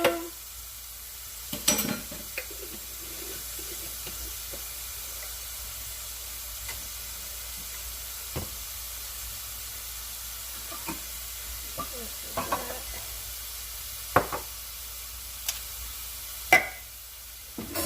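Sofrito sizzles in a pan with a soft, steady frying hiss, broken by scattered scrapes and clinks as it is stirred, fairly quiet and with no talking.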